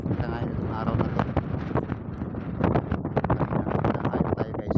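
Strong wind buffets the microphone outdoors near water while fishing, a loud rough rushing with gusty bursts throughout, mixed with scattered knocks and some talk.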